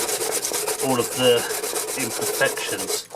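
Sandpaper rubs back and forth over a Suzuki Bandit dash light lens in quick, regular scratchy strokes, close and fairly loud, while a person briefly speaks over the rasping.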